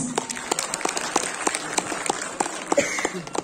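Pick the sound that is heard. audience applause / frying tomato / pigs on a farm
audience applause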